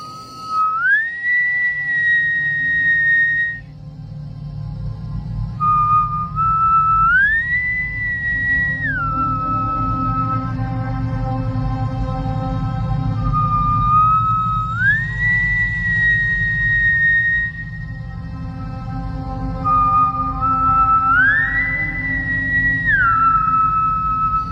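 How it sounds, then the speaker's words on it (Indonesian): A person whistles a slow, wavering tune in repeated rising and falling phrases, each held for several seconds with short pauses between, clear and close over a low background hum. "Kayak ada yang siul."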